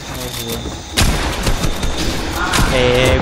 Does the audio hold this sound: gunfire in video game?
yes